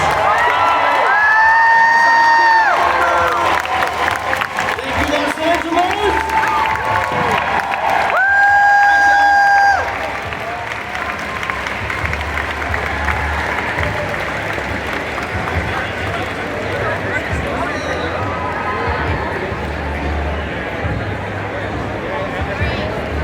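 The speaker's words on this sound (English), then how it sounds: "Please give another round of applause." Comic Con audience applauding and cheering the Lord of the Rings cast at a December 2023 panel, a broad wash of clapping and crowd noise that continues for many seconds, with voices over a loudspeaker at the start.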